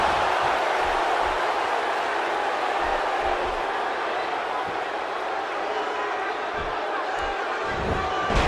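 A wrestling video game crowd roaring and cheering, a steady dense wash of noise with thuds and slams from the ring underneath.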